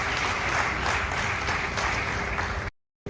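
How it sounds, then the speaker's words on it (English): Conference audience applauding at a real estate outlook event, a dense steady wash of clapping that holds for nearly three seconds before cutting off abruptly. "They deserve a round of applause wherever they are"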